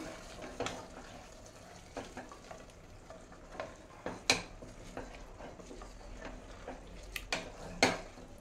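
Basmati rice mixture being stirred in a pot, with soft scraping and a few sharper clinks of a spoon against the metal rim, fairly close and quiet with no talking.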